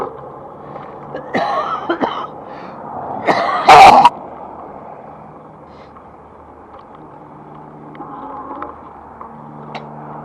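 A couple of close, harsh coughs, the last one loudest, over quiet background noise.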